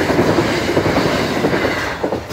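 A Class 377 electric passenger train bound for Portsmouth Harbour passes the Whyke Road level crossing, a loud, steady rumble with rail clatter close by and no voices throughout.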